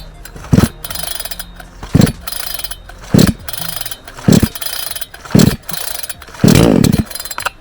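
A new ALPA gasoline chainsaw is pull-started cold with the primer pumped and choke out: five loud, close rattling pulls of the starter cord at roughly one-second intervals, with a brief sputter on the last.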